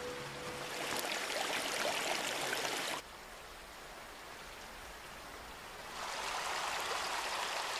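Waterfall in a valley of Morocco's Siroua region, Atlas mountains, a steady broadband rush of falling water that drops quieter for a few seconds midway and then returns to full strength, with no voices.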